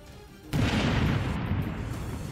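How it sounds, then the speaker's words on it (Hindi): A landmine laid on a road in a war zone is deliberately destroyed, setting off a sudden loud, deep blast that rolls on as a sustained rumble and debris noise after the initial boom. "इस दौरान वहां तेज धमाका हुआ"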